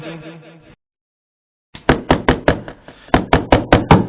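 Knocking on a door in an old Haryanvi village drama, a short stretch of music then silence, followed by two loud bursts of sharp, rapid knocks close by.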